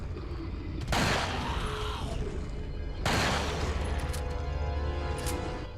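Two heavy magnum shots in Resident Evil 4, each a loud booming blast with a ringing tail, roughly two seconds apart over a steady game background.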